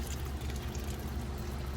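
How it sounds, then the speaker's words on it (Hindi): Water poured from a container onto soil in potted plants on a small patio, a soft, close, continuous trickling and splashing with faint background rumble, no talking. "तो अभी जिन गमलों में मैंने पौधे लगा चुकी हूँ वहाँ मैं पानी दे देती हूँ"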